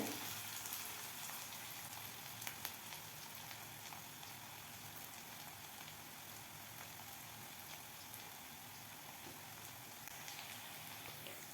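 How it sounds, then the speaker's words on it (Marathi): Chopped onion frying in oil for a tomato chutney, a steady broadband sizzle with a rain-like crackle that holds at an even level throughout, close and continuous with no voices. "कांदा छान आपण सोनेरी रंग येईपर्यंत परतून घेऊया"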